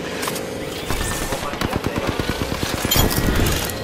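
Gunfire in the Apex Legends battle royale game: rapid automatic bursts of close, loud shots in a fast rhythmic string, with game effects and a voice heard underneath.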